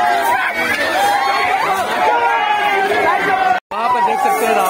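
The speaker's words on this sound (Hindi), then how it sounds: "भीड़ भी बहुत ज्यादा है, पब्लिक का तादाद देख सकते हैं किस तरीके से पब्लिक आ चुकी है रावण दहन देखने के लिए" A large crowd gathered to watch a Ravan Dahan effigy burning in Jehanabad: dense, steady chatter and babble from many people nearby, with one brief dropout near the end.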